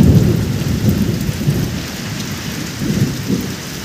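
Heavy rain pours down steadily with low rumbles of thunder rolling through it, a loud, continuous wash of rainfall with deep, swelling booms that rise and fade, and no talking.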